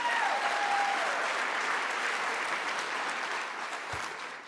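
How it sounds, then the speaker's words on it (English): Audience at a 2019 State of the City address applauds a deputy mayor, a full, sustained round of clapping that stays steady throughout, with a faint voice briefly audible at the start. "Let's give her a big round of applause."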